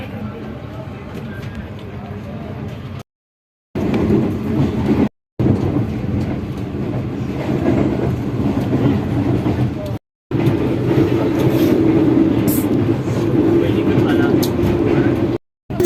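A train from Rawalpindi to Karachi runs at speed with a loud, continuous rumble and rattle of wheels on the track. The sound is broken by several brief dropouts into silence.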